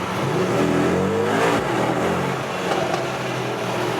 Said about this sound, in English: This optional performance exhaust is really something.